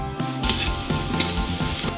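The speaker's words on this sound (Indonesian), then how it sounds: "Tumis semua sampai sayur mulai mateng." Shrimp and tofu stir-frying in a hot pan, a steady close sizzle with scraping stir strokes and light clinks throughout, no voices.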